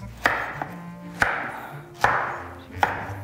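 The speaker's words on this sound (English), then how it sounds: "Now, we're gonna slice these up into about 2 to 3 inch rounds." Knife slicing through vegan ingredients into thick rounds on a cutting board, four crisp chops spaced roughly a second apart, close and fairly loud with no talking.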